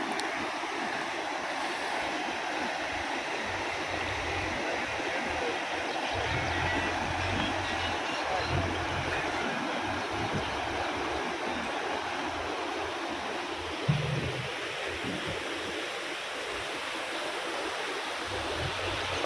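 Floodwater from a swollen village stream rushes over a road in a loud, unbroken roar that holds steady throughout, with a single brief knock partway through.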